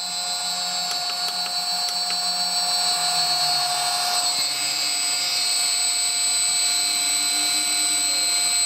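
An electric motor driven by a Huanyang VFD runs near its top speed with a steady, loud high-pitched whine and electrical hum throughout, its tone shifting slightly midway.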